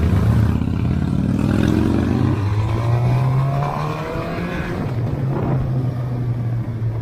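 A 2017 Harley-Davidson Breakout motorcycle being ridden, its engine loud and close, with a steady low rumble and a rising revving pitch as it accelerates, then settles back to a lower drone.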